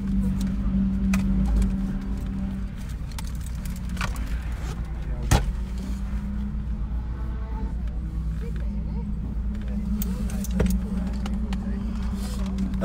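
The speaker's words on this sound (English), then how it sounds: "My car makes noises!" Steady engine drone from a car driving on the Snetterton racetrack, a continuous low rumble with brief clunks and rattles, voices faintly underneath.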